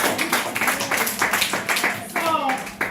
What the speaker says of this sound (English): Clap them, right.